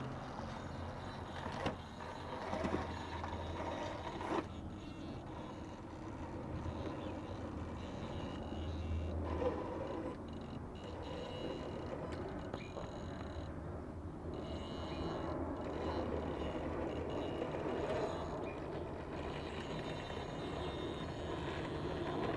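An RC crawler with a Holmes Hobbies Torquemaster Pro motor eases slowly down a wooden slope, its motor giving a continuous faint whine and drone with small bumps and creaks throughout.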